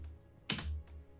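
A login name typed on a computer keyboard while connecting to an SSH server: a brief cluster of close key clicks, one sharp keystroke standing out against a quiet background.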